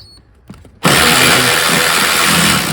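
A cordless ratchet wrench whirs on steadily at close range while backing out a bolt, a loud continuous motor buzz kicking in after a brief quiet moment with a few faint clicks.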